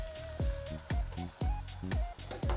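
Steak sizzling in a pan with garlic compound butter, a steady close crackle broken by a few sharp bursts of spitting fat as the meat is turned, with no voices.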